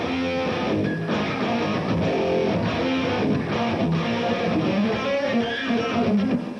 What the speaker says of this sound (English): There's a chord thing that I do that sounds like this.